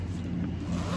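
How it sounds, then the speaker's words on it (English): A zipper on a Radio Flyer convertible stroller wagon is drawn closed in one quick, steady, close-up rasping pull. "Just zip it back up."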